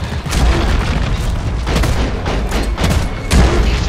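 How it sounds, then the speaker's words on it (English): A grenade explodes in the cooperative mining shooter Deep Rock Galactic, a loud booming blast mixed into dense continuous gunfire and crashing rumble. "that grenade did not go where I expected it to."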